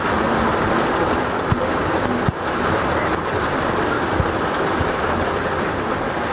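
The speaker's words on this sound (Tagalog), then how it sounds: "ang lakas ng ulan. Naririnig niyo po ata eh" Steady heavy rain hisses continuously, with a few faint knocks and taps in the background.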